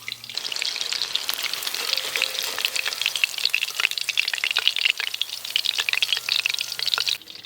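Chicken kabab deep-frying with curry leaves in a village kitchen: a loud, close, dense crackling sizzle running continuously with brisk pops, over a faint low hum, cutting off abruptly at the end.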